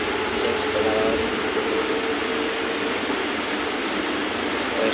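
A suburban commuter train rolls towards Dadar station, a steady loud rumble and rushing hiss heard from inside the carriage, with faint voices beneath.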